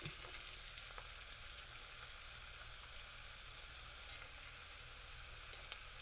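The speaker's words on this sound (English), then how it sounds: "Just going to fry up." Yellow squash frying in a pan gives off a soft, steady sizzle, quiet and continuous throughout with no voices.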